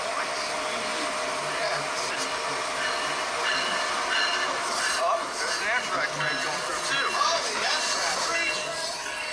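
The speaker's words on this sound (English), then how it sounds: "here comes the Metro North" A Metro North commuter train rolls past on the tracks, a steady broadband rumble with faint wheel squeal and clatter throughout, heard from trackside with some talk nearby.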